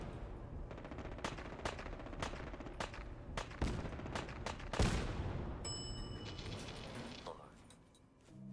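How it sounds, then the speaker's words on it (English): Gunfire in the video game Fallout 4: a string of sharp, fairly distant shots cracks out at irregular intervals, some in quick clusters, with one heavier blast before the shooting trails off. "Not sure who was shooting who from where"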